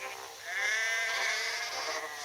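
A single sheep gives a drawn-out, wavering bleat, close and fairly clear over a faint background.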